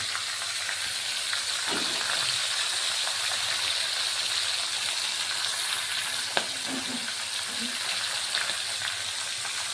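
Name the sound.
pieces of katal fish frying in oil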